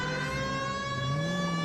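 Police car siren in the game L.A. Noire, a steady tonal wail with strong harmonics that bends slightly in pitch, sounding continuously over faint engine noise with no talk.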